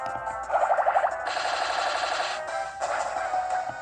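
In Pokémon Black, the Bullet Seed attack fires a rapid volley of quick, snappy shots in a burst, followed by sustained bright, crackling game effects that swell and fade.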